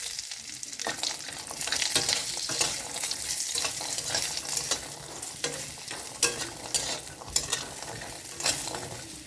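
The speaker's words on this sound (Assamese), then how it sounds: "মই বৰাখিনি প্ৰথমতে ভাজি লৈছো।" Black gram lentil fritters frying in hot oil, a steady close sizzle with repeated scraping stirs and sharp crackles throughout, fairly loud and unbroken.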